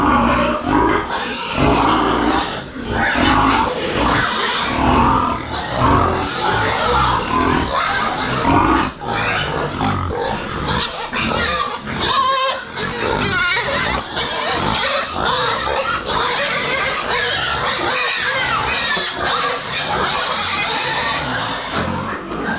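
Pigs on a farm in the Philippines grunt and oink loudly and continuously, several animals close by producing dense, overlapping rough snorts and squeals with no pause across the whole stretch.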